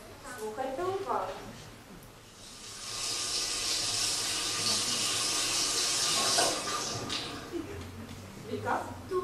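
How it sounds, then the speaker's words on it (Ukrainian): Water pours steadily from a shower for several seconds, a broad bright hiss that rises, holds and then cuts off, with children's voices murmuring before and after in a classroom. "Душ."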